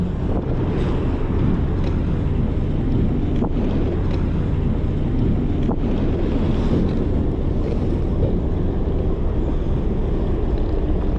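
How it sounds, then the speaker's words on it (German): Strong wind gusts buffet the microphone aboard a motorboat on an end-of-season cruise to Blokzijl, a loud steady rushing roar over the low hum of the boat and water, with no talk. "Es ist schon verdammt windig heute."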